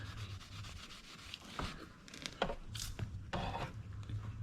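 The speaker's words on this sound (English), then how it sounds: "I think if I can just take some steel wool on the rims themselves, this should shine up to be looking brand spanking new." Steel wool scrubbing the wheel rims of a 1970s dirt bike, quiet uneven rubbing strokes with scattered sharper scrapes, close and alone.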